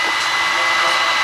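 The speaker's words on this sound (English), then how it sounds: "I'm going to turn on my waste vegetable oil pump here" Waste vegetable oil pump in a homemade biodiesel processor running with a steady, loud, whirring hiss and hum, continuous throughout without pauses.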